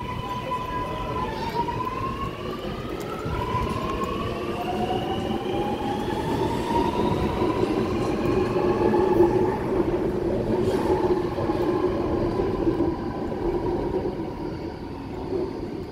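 Sydney Metro train rolling through Chatswood station, a continuous loud rumble with rising and falling motor whine tones and a faint squeal building mid-pass.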